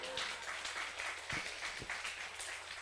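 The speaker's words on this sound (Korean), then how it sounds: "우리 박수 한번 우리." Soft, steady applause from an audience at a talk, a continuous patter of many hands heard at a distance and fairly quiet throughout.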